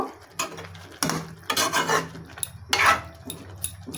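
A lid scrapes and rattles onto a pot of spinach cooked with mung dal, several close rasping, clattering bursts of metal and wood rubbing in quick succession.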